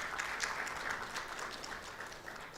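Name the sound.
audience applauding the managing director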